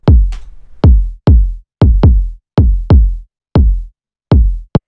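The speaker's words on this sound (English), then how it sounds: "The first thing we have going on here is the kick" Deep, punchy kick drum from a future garage track at 138 BPM, playing alone in an irregular, bouncing pattern of about ten loud hits with quick decays and gaps of silence between them.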